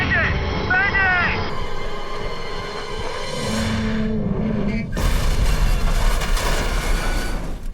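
A failing helicopter goes down in a disaster-movie scene, with radio chatter and engine strain giving way to a loud, sustained booming crash and explosion rumble that fills the final seconds.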